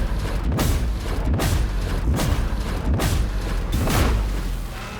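A plasma gun in Warhammer 40,000: Darktide fires repeatedly into a bulwark's shield, giving five loud, heavy booming blasts spaced under a second apart, each with a deep thud and a rumbling tail.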